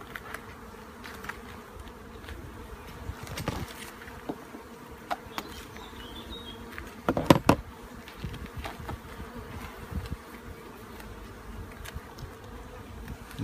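Honeybees buzz steadily and close around the listener at an urban hive in London, a continuous droning hum with a few louder passes and light handling knocks.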